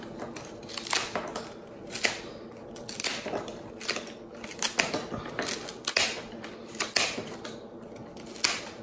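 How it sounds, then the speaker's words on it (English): Repeated sharp snipping clicks as floral scissors cut flower stem ends at an angle, several crisp cuts spaced irregularly, close up, with faint rustling between them and no talking. "Now I'm just going to cut the ends"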